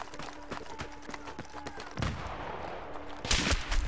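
Video game gunfire crackles in quick bursts of sharp shots, with a louder close blast near the middle and another heavy one near the end.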